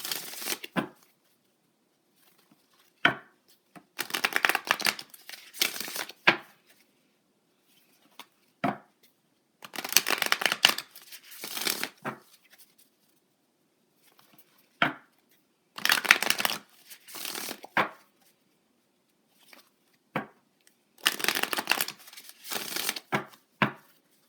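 Tarot cards from a Moon deck being shuffled in several bursts of crisp riffling and slapping, separated by quiet pauses, close and fairly loud with no talking.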